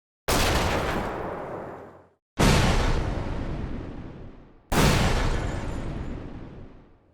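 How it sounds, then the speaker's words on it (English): Three booming video game enemy explosions in a row, each a sharp burst that rumbles and fades over about two seconds, loud and alone. "The explosion sounds after defeating an enemy were created using sample layering"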